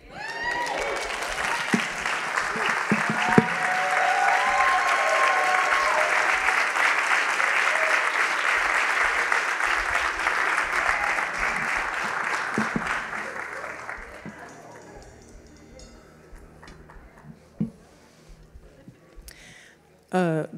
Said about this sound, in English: That was a clap for her.